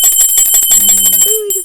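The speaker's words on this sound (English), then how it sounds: "Turn on that post notification bell" A bright notification bell chime rings out in a short sound effect, a clear ding with sustained high tones that fades after about a second and a half, with no talk over it.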